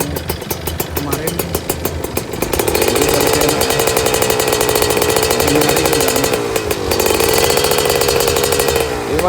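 Kawasaki Ninja RR two-stroke motorcycle engine, repaired after overheating, idles with a buzzy, raspy tone, then rises steadily to a louder, sustained rev that holds and wavers close by, with no talking over it.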